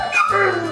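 A German shepherd roaming the street lets out a single short bark with a whimpering edge, close and fairly loud.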